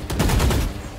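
A quick burst of gunshots in Valorant, three or four sharp close cracks in rapid succession over about half a second, loud and alone.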